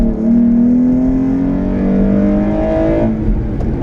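A Hyundai Genesis Coupe's 3.8-liter V6 roars loudly and close through its intake, the pitch climbing steadily under hard acceleration before the note drops as it shifts or lifts off near the end.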